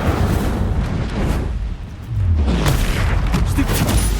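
A fire spell is cast in the Hogwarts Legacy video game, giving a loud, sustained whooshing roar with a deep low rumble and a dip midway before it surges again.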